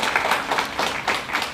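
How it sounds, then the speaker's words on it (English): Audience applause at a community foundation scholarship awards ceremony in Westland, a steady wash of clapping from many hands that swells in waves and holds at moderate loudness throughout, with no talking over it. "Before we get started, how about a big round of applause for Glenn and Patty Shaw."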